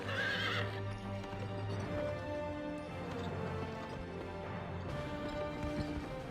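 Horse neighing and clopping hooves in the video game GUN, a shrill whinny opening over steady layered hoofbeats and game music, continuous and fairly loud throughout.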